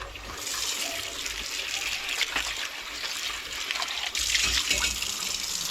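Tap water runs steadily into a yellow plastic container for dilution while cooking meatballs, a continuous broadband rush that grows louder near the end, with no talking.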